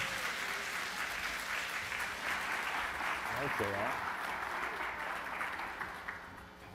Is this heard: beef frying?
no